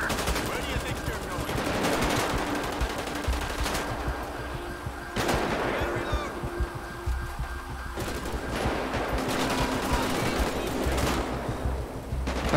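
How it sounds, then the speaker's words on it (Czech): Rapid bursts of automatic and single-shot gunfire crackle through a GTA V shootout, loud and sustained in waves with short lulls, over background noise and occasional voices. "Máme tady střelbu."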